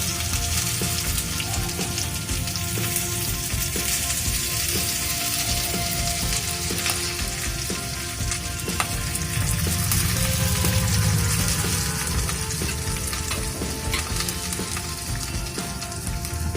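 Stuffed okra (bharli bhendi) frying in oil in a hot kadai gives a steady, dense sizzle and crackle that runs unbroken from start to finish, close and moderately loud with no talking.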